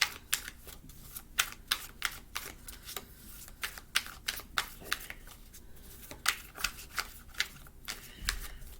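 Tarot cards shuffled and pulled from a deck, a run of crisp papery flicks and snaps in an irregular rhythm, close and fairly quiet, with no talking.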